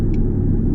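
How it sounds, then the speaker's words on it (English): A 2019 Ford Mustang GT convertible downshifting into third in Sport Plus mode, heard as a loud, close, deep engine rumble that holds steady through a brief burst. "when it goes to downshift into third on its own"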